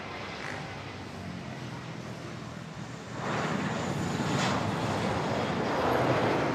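An Airbus A321 airliner at Manila airport roars as a broad, wind-buffeted jet wash that swells in loudness partway through and stays heavy to the end, heard from outdoors.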